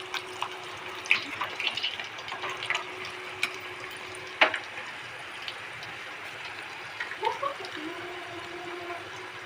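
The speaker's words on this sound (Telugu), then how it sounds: "మనం పసుపు నీళ్ళు ఆయిల్లో వేసినప్పుడు ఆయిల్ చిలుతుంది" Turmeric water hits hot oil in a pan, giving a soft continuous bubbling hiss with scattered sharp pops and crackles, close and fairly quiet, with no one speaking.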